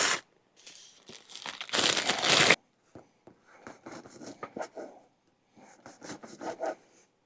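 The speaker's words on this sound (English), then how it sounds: "So let's get some bread cut." A French bread loaf is sawn into chunks with a knife at a snowy winter camp. Crisp crust crackles and rasps in close, uneven bursts, with one long dense stretch of sawing followed by shorter strokes.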